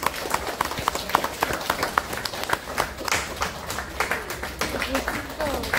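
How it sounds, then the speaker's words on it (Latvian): Audience applause welcoming a school music and art school choir, a steady patter of many hands clapping at moderate distance, continuing over several seconds with a voice talking over it. "Ar aplausiem sagaidīsim kādu laiciņu"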